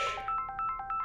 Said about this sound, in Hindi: हिकमत का फोन आ रहा है